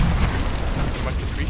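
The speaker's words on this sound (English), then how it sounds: "Throwing frag!" Frag grenade blast in Gears of War, a dense rumbling burst of explosive noise sustained through the short moment, loud and full.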